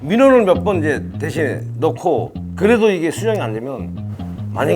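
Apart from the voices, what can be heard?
No distinct noise like a dog, phone or traffic.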